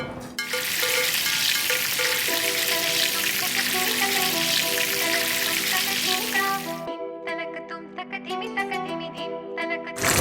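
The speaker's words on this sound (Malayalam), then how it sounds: "ഈ ഓയിലോട്ട് കബാബ് ഇടാം." Loud, steady sizzling of Bohri kebabs frying in hot oil, close up, continuing throughout with a dense crackle over background music.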